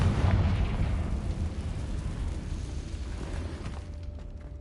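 Fiery spell blast from Confringo in Hogwarts Legacy, a loud sustained rumbling boom that fills the whole stretch and slowly fades, heard alone with no talk.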